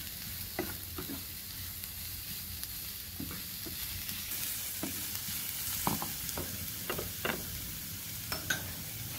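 Cauliflower rice and chicken sizzle in a hot pan under a steady frying hiss, with repeated scraping and stirring strokes of a utensil at irregular intervals, close and moderately quiet, with no speech.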